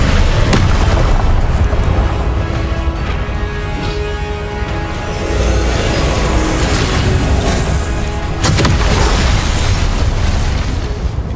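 Explosive blast spell in Hogwarts Legacy erupting in repeated heavy booms, loud and close, each burst swelling out of a constant rumbling din of in-game combat.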